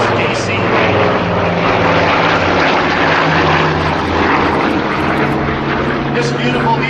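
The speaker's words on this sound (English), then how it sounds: "This beautiful DC-4 is making its way now back to its home base over at Atwater" A Douglas DC-4 four-engine piston propeller airliner flying at an airshow, its engines droning loud and steady throughout, with a commentator talking over the engine roar.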